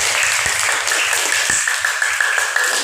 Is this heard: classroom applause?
yes